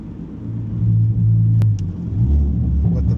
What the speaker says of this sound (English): With the valved exhaust, instantly got louder.